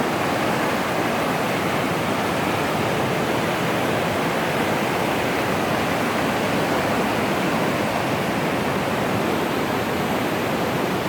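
A large waterfall in southern Thailand's Si Sawat area, roaring as a dense, constant wash of falling water that stays loud and unbroken throughout, with no voices.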